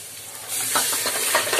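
Crabs hit a hot pan for a crab curry, a sudden burst of close sizzling and stirring that swells after a quiet start and keeps crackling briefly.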